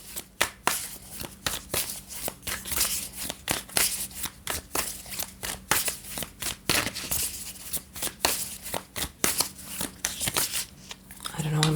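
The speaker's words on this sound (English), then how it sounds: "I'm shuffling this deck for so long." A tarot card deck is shuffled close by for a long stretch, giving a dense run of quick papery riffles and crackling snaps with a faint steady hum underneath.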